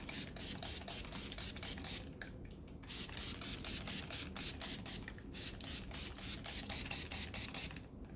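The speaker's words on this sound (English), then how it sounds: "I'm just gonna re-wet it with spray bottle." A spray bottle spritzes water onto hair in rapid, regular bursts, many quick pumps in a row with a few short pauses, fairly close.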